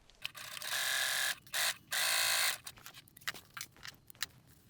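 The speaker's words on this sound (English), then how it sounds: "I'm going to clip and stitch along that top edge with a 1 centimetre seam allowance." Sewing machine stitching along the top edge of a bag with a 1 cm seam allowance, giving a few loud, close bursts of rapid whirring that start and stop between bits of quiet handling.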